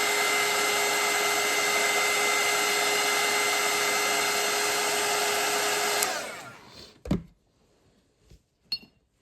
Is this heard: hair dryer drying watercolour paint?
yes